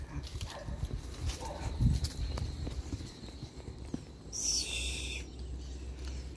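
A mare's hooves clip-clop in a quick, uneven rhythm while she is ridden at speed outdoors, with scattered knocks and a brief high call partway through.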